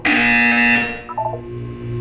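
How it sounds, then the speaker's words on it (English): A loud buzzer tone from the video game Portal 2 sounds steadily for about a second, then cuts off into softer electronic game tones and background hum. "You will hear a buzzer."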